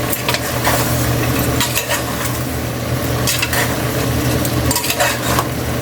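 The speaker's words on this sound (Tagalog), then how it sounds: "Haluin muna natin." A whole batch of beef is stirred in a cooking pot with other ingredients, giving a steady scraping, sizzling texture that runs loud and close throughout, with no voices.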